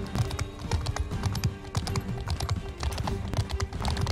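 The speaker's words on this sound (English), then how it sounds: "Now, in theory, I should be okay because I have a really fast horse." A horse's hooves gallop in the Mount & Blade video game, a quick, irregular clip-clop that repeats steadily at close range.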